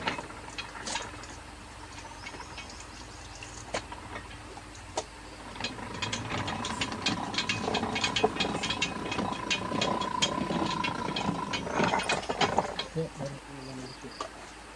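A machine in a Kerala village workshop presses a soft halwa-like mixture into sheets, giving a close, faint clatter of ticking, ratcheting mechanical rhythm that grows busier partway through, with brief speech in the background.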